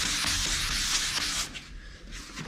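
Guide coat powder is rubbed by hand into 320 grit scratches on the bodywork of a 1959 VW Beetle under restoration, a close, steady scrubbing hiss that eases slightly toward the end, with no voices.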